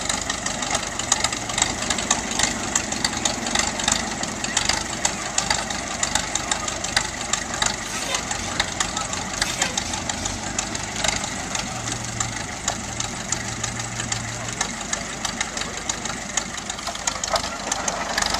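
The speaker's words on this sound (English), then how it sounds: "Here we have the United motor grader putting on a demonstration showing what it used to do in its heyday." An old United motor grader running during a demonstration at a truck show at a sand and gravel company, a continuous rough engine drone with knocking texture and outdoor wind noise, no talking.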